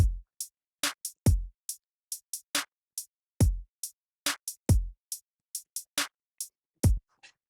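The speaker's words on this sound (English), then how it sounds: "then we got some drums" Dry electronic drums play a steady pattern of booming kicks and crisp snare and hi-hat hits, with clean silence between strikes.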